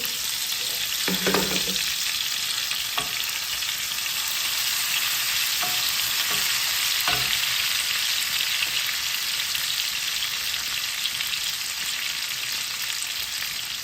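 Dry fish sizzles and fries steadily in a hot pan for pickle with mustard greens, a dense continuous crackle with a few brief stirring clunks, close and alone without talk.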